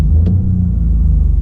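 A 2019 MINI Cooper with a 1.5-liter turbo engine drones low and steady from inside the cabin on a night drive, a continuous rumble with a faint brief click near the start.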